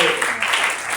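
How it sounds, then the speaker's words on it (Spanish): A church congregation applauds in a brief, dense burst of clapping lasting about a second, with a voice calling out over it. "Denle ese aplauso al Señor"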